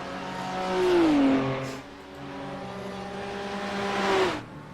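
GT3 race cars racing at Mount Panorama, with engines roaring past loud and close as one car approaches and fades, then another swells in with a rising whine, all under commentary-free track noise.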